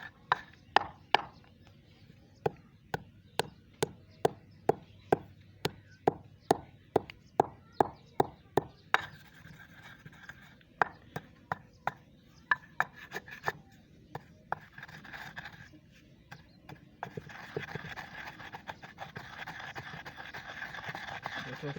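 Almonds dropped in one by one and crushed in a grinder or mortar, giving a steady run of sharp, evenly spaced knocks that turn into a denser, continuous rubbing grind toward the end, with no talking.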